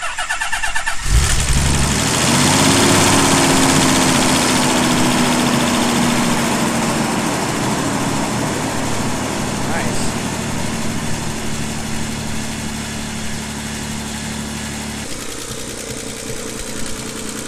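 A Nissan 300ZX engine cranks and catches, then settles into a loud, steady idle with a droning hum that slowly eases down, running alone close by for the whole stretch.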